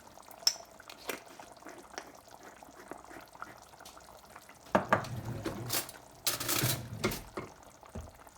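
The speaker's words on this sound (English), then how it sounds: "I'm just going to leave it there to simmer away for about another 10 minutes" Chicken madras curry simmering in a family pot gives off a low, steady bubbling with faint wet pops, joined midway by louder clatters and brief bursts of stirring and handling near the end.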